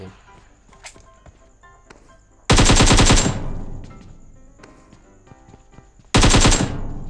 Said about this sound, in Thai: ยิงกันอยู่ข้างหน้าครับ